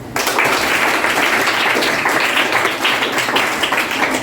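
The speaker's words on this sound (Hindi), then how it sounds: "अपने लिए ताली बजाओ।" Eighth-grade students clap for themselves at a school in Rajgir, Bihar, a dense, steady burst of many hands filling the room for about four seconds with no talk.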